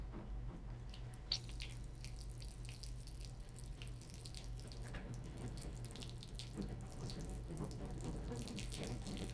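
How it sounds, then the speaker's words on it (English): Water is poured onto houseplant tissue-culture plantlets in soil, a steady soft trickle and splash over a constant low hum with no talk. "So I'm going to go ahead and give them a water."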